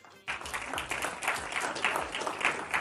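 An audience at a Hindi political speech breaks into applause after a short silent start. The clapping is fairly faint and continuous, with a voice partly mixed in underneath.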